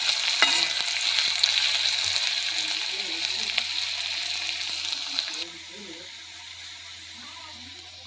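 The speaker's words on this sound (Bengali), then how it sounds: "এবারে যে পেঁয়াজ কুচিটা রাখা ছিল সেই পেঁয়াজ কুচিগুলো আমি সব দিয়ে দিলাম তেলের মধ্যে" Chopped onions sizzle and crackle in hot oil for a chicken dish, a steady loud frying hiss with stirring scrapes that drops to a quieter simmer partway through.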